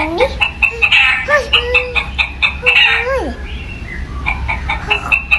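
A recorded chicken clucks and squawks in rapid, repeated calls during a children's sound-guessing game, fairly loud and close, with a voice speaking briefly over it.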